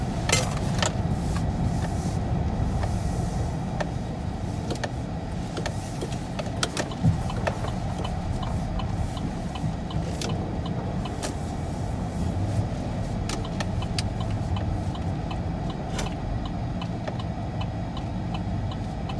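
A 2015 Chevrolet Silverado with a Magnaflow axle-dump exhaust cruising in manual fifth gear with tow/haul mode on, a steady low engine drone with road rumble and scattered ticking clicks throughout.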